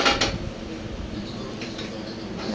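A cooking pot for chicken dum biryani clanks sharply once at the start on a stovetop, then only faint kitchen clatter and background hum follow.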